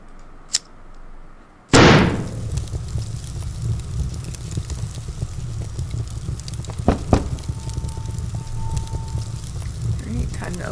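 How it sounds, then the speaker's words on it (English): A diary catching fire in the creepy video game Love Sam: a sharp sudden burst, then a low steady crackling and roaring flame with scattered pops, fairly close and continuous. "I guess we light the diary on fire"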